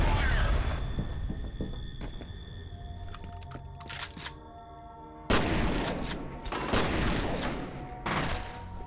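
In the video game F.E.A.R., a grenade goes off in a heavy boom, followed by bursts of gunfire and scattered impacts. Reverberant combat noise fills the stretch, with a second loud blast about midway.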